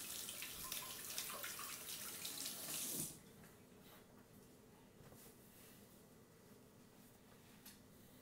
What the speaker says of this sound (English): Always rinse your hands off after cracking eggs.